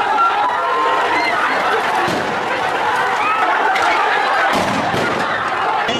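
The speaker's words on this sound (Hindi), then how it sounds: "देख रहे हैं लोग सड़कों पर निकल आए, भारी भीड़ सड़कों पर निकल आई, प्रदर्शन करने लगी" A huge protesting crowd fills the streets of Dhaka, Bangladesh: a loud, dense, continuous roar of many shouting voices up close, with occasional sharper bangs and thuds in the din.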